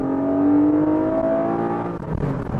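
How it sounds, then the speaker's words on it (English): A Porsche Boxster GTS 4.0 engine revs hard, its pitch climbing and then falling away, loud and close with no talking. "But I love this engine so much that I need to just rev it out a couple more times."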